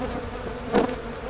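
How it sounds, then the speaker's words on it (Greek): A bee buzzing close by, a brief hum that swells sharply for a moment as it passes near and then fades back to a faint drone. "Δείτε τι κάνω τώρα για να γλιτώσω από τη μέλισσα."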